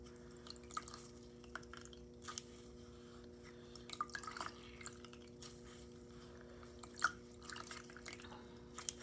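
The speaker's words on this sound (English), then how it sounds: "Rinsing my sponge good." A grouting sponge from a mosaic butterfly kit is rinsed in water, giving scattered drips and small splashes over a quiet steady hum, close and faint, with no voices.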